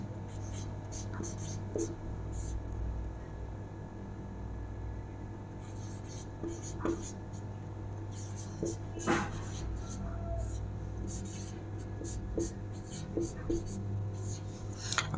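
Writing on a board during a Hindi language lesson: soft, scratchy strokes and taps come in short bursts over a steady room hum, with quiet speech in between.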